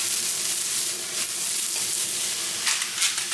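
Mushrooms and onions frying in sunflower oil in a pan on a gas stove, with a steady close sizzle and crackle that runs unbroken and fairly loud, with no talking.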